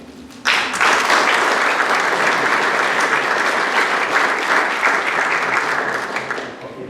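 Loud, sustained applause from an audience welcoming a speaker to the stage, starting abruptly and continuing steadily with dense clapping before tapering slightly toward the end.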